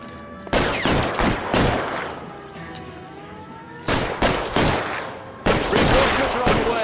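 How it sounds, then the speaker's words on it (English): Suppression gunfire in L.A. Noire, loud bursts of rapid automatic shots in three clusters separated by brief lulls, close and harsh. "I'll lay down some suppression fire."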